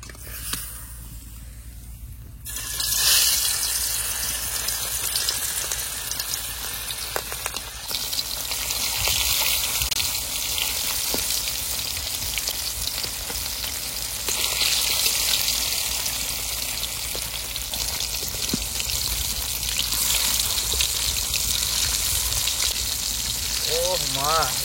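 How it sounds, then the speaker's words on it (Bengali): Hilsa fish fry in hot oil in a pan, a loud, dense sizzle that bursts in as the fish goes in and then crackles steadily and close. "তেল গরম হয়ে গেছে, এবার তেলের মধ্যে মাছ দিয়ে দেবো।"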